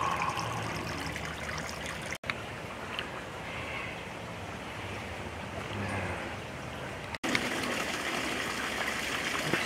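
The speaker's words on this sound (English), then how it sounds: "A nice little waterfall. Sort of a trickle more than a waterfall." A small garden waterfall at Sarasota Jungle Gardens in Florida trickles into little streams, giving a continuous close rush of splashing water that runs the whole time with no speech.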